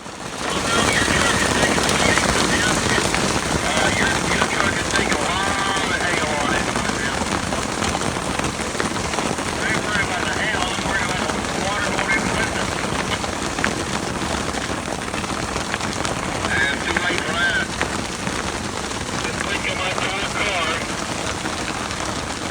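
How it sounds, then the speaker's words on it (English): Quarter-inch hail pelts a travel trailer on a cross-country motor convoy, a dense, constant clatter and roar of impacts that holds loud and unbroken throughout. "that's quarter-inch hail."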